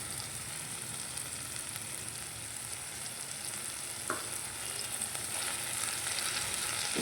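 Spices cook with sour yogurt for a brinjal dish, a soft, continuous sizzle with occasional stirring clatter that grows slightly louder toward the end.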